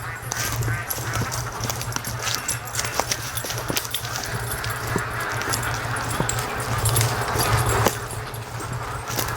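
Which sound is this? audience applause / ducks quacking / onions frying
ducks quacking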